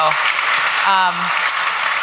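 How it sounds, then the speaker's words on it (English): Audience applause during an onstage conversation with a Coinbase executive and an NFL player, a dense spread of clapping with a voice speaking briefly over part of it. "Yeah, it's worth a clap."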